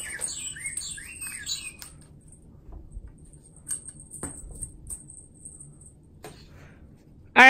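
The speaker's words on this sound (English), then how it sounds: "I accidentally hit the bird chirping that time." An electronic bird chirp from a cat wand toy with a feather, squiggly worm and light chaser: rapid high twittering warbles for about two seconds, then silence broken by light handling knocks and rustles.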